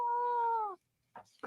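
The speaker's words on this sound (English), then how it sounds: "We have a very upset" An upset, overweight cat lets out one long, loud, drawn-out meow, followed by a short pause and a couple of brief, fainter sounds.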